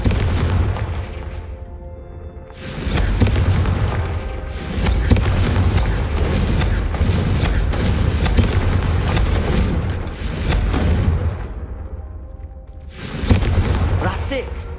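Repeated fiery blasting-spell explosions from the Confringo spell in the Hogwarts Legacy video game, during a Pensieve Guardian boss fight: loud rumbling booms in several long bursts, with game voices talking underneath.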